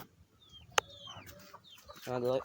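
A hen outdoors gives faint, scattered clucks and short calls, ending in a louder rhythmic clucking burst, with a sharp click early on and low background noise.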